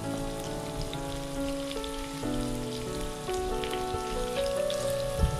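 Ingredients, including onions, sautéing in a pan for pepper chicken curry, giving a steady, close crackling sizzle like light rain with occasional sharper pops, heard alone against a faint tonal background hum.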